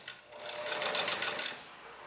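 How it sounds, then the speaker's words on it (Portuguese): A sewing machine stitches a shirt cuff placket in a steady, close whirring run that swells slightly mid-stretch, with no talk over it. "Vamos costurar essa parte aqui"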